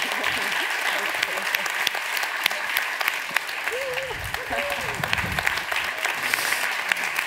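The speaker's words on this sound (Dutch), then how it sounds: "Geef hem een warm applaus." Warm audience applause at an evening event closing, loud and dense clapping from a crowd, with a few faint voices and short whoops rising over the steady patter.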